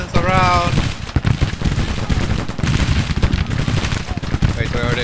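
A Civil War battle in a video game, with cannon fire and infantry volleys rolling in dense, loud, overlapping bursts throughout, and a brief voice near the start.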